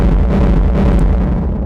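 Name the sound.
kick drum heavily distorted by Camel Crusher plugin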